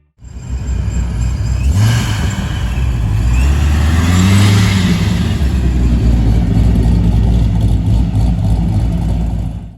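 A loud engine roars and revs at a Cars & Coffee car show after a brief quiet start, holding a steady, close, throaty drone with rising and falling pitch throughout.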